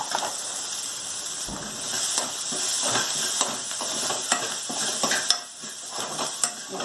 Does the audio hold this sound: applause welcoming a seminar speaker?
no